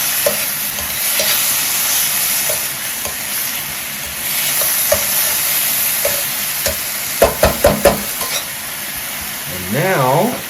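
Shrimp stir-fry with two tablespoons of hoisin sauce sizzling loudly in a single pan while being stirred, with scraping clacks of the utensil near the end and a brief voice at the close.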